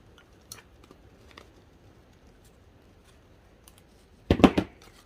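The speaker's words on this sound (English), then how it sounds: "I'm going to cut this wire down." Wire from ribbon salvaged off a wreath being cut, mostly quiet with faint ticks, then a sharp loud snip or two near the end.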